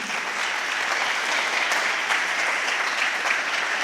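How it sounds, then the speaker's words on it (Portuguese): Steady, dense applause from a large church congregation, loud and continuous throughout with no pauses. "Dá um aplauso aí."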